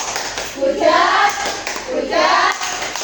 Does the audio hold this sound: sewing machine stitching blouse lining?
no